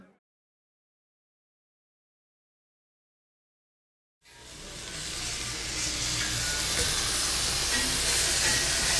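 Silence, then a loud, rushing hiss erupts and holds steady, like hot charcoal steaming and sizzling as it is plunged into water.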